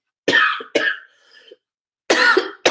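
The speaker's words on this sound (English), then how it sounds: "As I cough," A person coughs in several sharp, harsh bursts, two close together, then a short gap and two more, loud and near with no talking.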